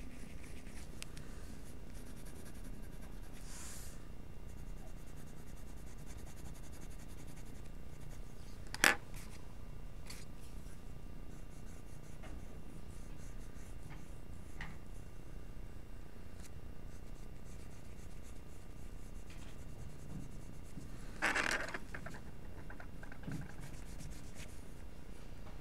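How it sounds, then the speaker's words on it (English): A hard graphite pencil scratches steadily across paper while a safety pin is drawn, giving a soft, close, continuous rasp with a couple of sharper taps standing out. "I'm just using a little harder pencil lead."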